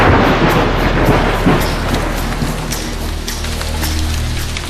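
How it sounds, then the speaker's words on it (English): A sudden, hot and humid wet-season thunderstorm breaks with heavy rain: a dense, close roar of downpour with deep rolling thunder running through it, loud and steady, with no voices. "Suddenly, a storm erupts."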